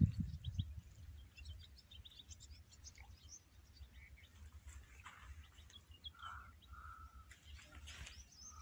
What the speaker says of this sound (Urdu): کوئی آواز نہیں تھی سوائے پرندوں کی آوازوں کے